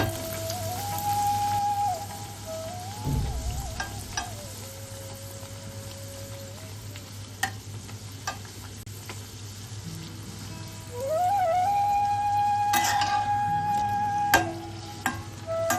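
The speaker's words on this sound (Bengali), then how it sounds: "কচুরিগুলো এইরকম একটু লালচে করে ভাজবে তাহলেই খেতে ভালো লাগবে" Fish kachori fry in hot oil over a high gas flame, sizzling softly and steadily. A thin whistling tone comes and goes above the sizzle, and no one speaks.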